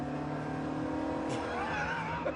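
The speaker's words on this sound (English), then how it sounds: "There's a fair bit of period turbo lag, as you can hear." Turbocharged car engine with noticeable turbo lag, holding a steady drone before a rising whine of boost builds near the end, loud and close with no voices.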